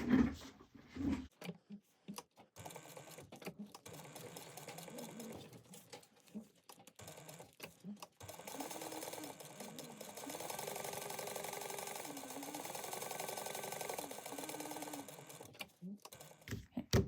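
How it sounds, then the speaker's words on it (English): A sewing machine stitches fabric ears for a bag, with several short bursts of rapid stitching followed by a longer continuous run in the middle, close up amid handling noises. "You're going to sew all the way around your ear at 1/8 of an inch"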